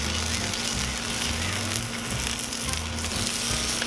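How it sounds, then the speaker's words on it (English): Wagyu smash burger patties fry on a Cuisinart 360 griddle, giving a loud, continuous close sizzle with a low hum beneath and no talking. "Just start getting these going here. Just gonna let them cook."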